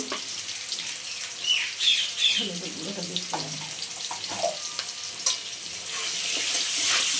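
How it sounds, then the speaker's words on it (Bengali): Potatoes fry in oil with salt and turmeric for a khichuri dish, giving a steady, close hiss of sizzling with a few soft knocks and clinks over it. "আলুটা সুন্দর করে লাল লাল করে ভেজে নেবো"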